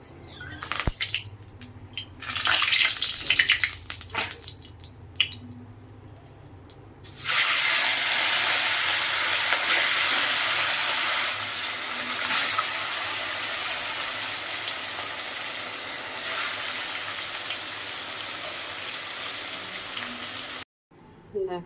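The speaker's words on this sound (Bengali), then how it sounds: "এবার মাছটা ভেজে নেব।" Pieces of katla fish sizzle and hiss loudly in hot oil, a steady bright frying roar that flares up after a quieter start and runs continuously before cutting off.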